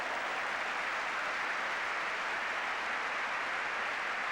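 Football crowd at Old Trafford applauding a Manchester United player during the match against Ipswich, a steady, distant wash of clapping filling the stadium with no break.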